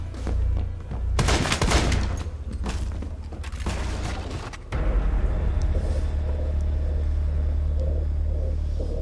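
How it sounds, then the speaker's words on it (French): Gunfire in the video game Rainbow Six Siege: bursts of loud rapid shots and booms up close, with a rumbling low drone continuing between volleys. "Le gars tire sans viser, tu sais."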